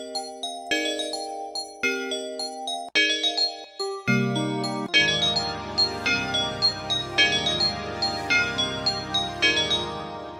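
A gentle chimes preset in FL Studio rings out in layered bell-like notes, starting as sparse single tones and building into fuller repeating chords with soft, shimmering decays.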